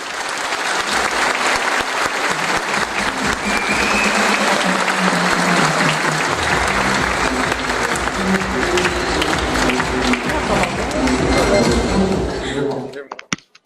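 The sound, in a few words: audience applause welcoming legal director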